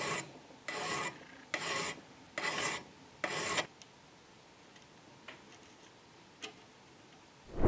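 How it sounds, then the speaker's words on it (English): A dovetail file rasps across a steel gun sight on a flintlock muzzleloader kit, five rhythmic back-and-forth strokes close up, followed by quiet faint ticks and small handling clicks. "The dovetail file now."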